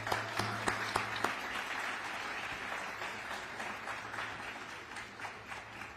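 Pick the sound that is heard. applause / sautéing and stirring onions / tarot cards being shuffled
applause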